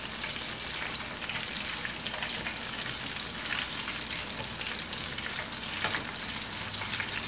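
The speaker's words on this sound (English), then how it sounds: "you want to cook these slow" Onion rings fry slowly in hot oil, a steady, dense sizzle and crackle running continuously at close range with no voices over it.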